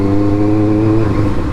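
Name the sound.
Benelli TNT 600i motorcycle with Akrapovic replica exhaust revving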